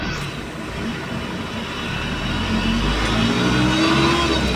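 Road traffic along a commute route, a car or truck engine revving and accelerating close by, steady rumbling that swells slightly louder toward the end, with no talk.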